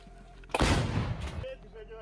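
A single loud artillery gun firing, an abrupt close blast followed by a roaring rumble that lasts about a second before dying away, during a paratrooper artillery engagement in the border areas of the Kursk region.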